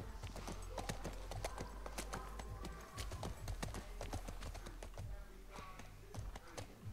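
Dense, rapid clip-clop of hooves over a low rumbling bed in The Last of Us Part 1, continuous and steady throughout, suggesting several horses moving at a brisk pace.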